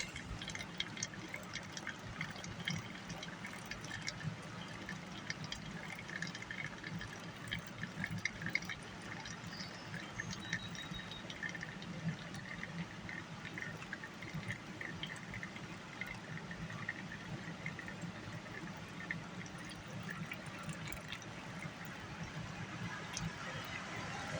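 Coffee pours slowly into a 16-ounce cup in a faint, steady, continuous trickle.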